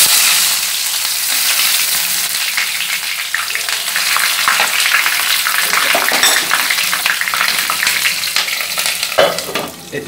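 Chopped onion frying in oil for a vegetable biryani, a loud, dense, continuous sizzle with occasional stirring scrapes, close up throughout.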